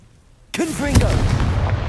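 A Confringo fire spell blast in a video game erupts suddenly into a loud, booming burst with swooping magical whooshes, then settles into a sustained roaring rumble.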